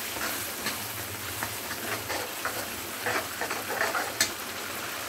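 Masala spices frying in a pan with oil, a continuous soft sizzle and crackle with light stirring scrapes, close and steady, no talking.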